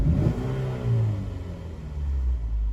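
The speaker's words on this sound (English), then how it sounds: "So I'm gonna go ahead and snap the throttle." Saturn Vue engine with a flashing check engine light revving from a quick throttle snap, a close rumbling surge that climbs and then settles back toward idle, heard alone.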